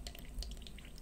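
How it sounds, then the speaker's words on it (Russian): Water runs from an opened tap during home fish canning with an autoclave, a faint, steady trickle with small splashy bursts and no talk. "Проверяем, водичка пошла."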